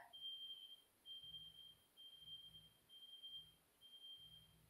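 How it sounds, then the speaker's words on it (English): A smoke detector in a neighbouring home sounding off, giving a faint, thin, high electronic tone that repeats steadily. It is distant and quiet above low background rumble, and no one speaks over it. "I think someone's smoke detector went off."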